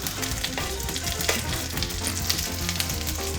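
Tomatoes hit a hot frying pan for a quick salmon meunière and sizzle loudly and steadily, with a dense crackle and some stirring. No one speaks over it.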